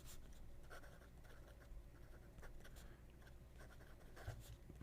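A fine-nib fountain pen scratches faintly across square grid paper in a light, continuous run of small strokes, heard alone and close.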